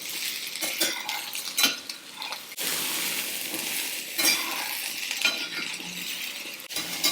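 Okra is sautéed in a pan, a spatula scraping and clinking against the metal in irregular strokes over a constant hiss of frying, close and fairly loud throughout without any talk.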